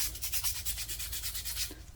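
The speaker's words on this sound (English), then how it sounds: "and then I will start scrubbing." Dirty SilencerCo Sparrow suppressor parts being scrubbed by hand with a brush, a steady rapid back-and-forth rubbing rhythm heard close up and alone.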